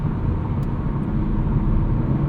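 Inside a 2021 BMW M3 Competition, the turbocharged inline-six pulls under acceleration as a steady, full engine drone and road roar filling the cabin, with no talking.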